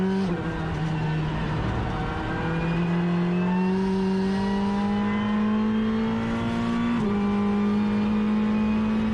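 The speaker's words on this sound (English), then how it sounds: "but in the game we rev it out" A race car engine in Assetto Corsa Competizione at Zandvoort revs high and steadily climbs in pitch, with a brief dip at a gear change before continuing to wind up, loud and close.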